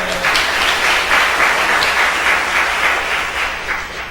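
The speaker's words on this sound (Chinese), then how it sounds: "用掌声献给耶稣" Congregation applauding at a Saturday church worship service, loud sustained clapping from a large crowd that holds steady and tapers slightly at the end.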